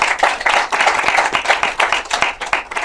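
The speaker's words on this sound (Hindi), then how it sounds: "आप सब लोग ज़रा तालियों से स्वागत कीजिए उनका" An audience at a film audio launch event claps to welcome a director, with brisk, uneven handclaps from a moderate crowd that are loud and close and have no talking over them.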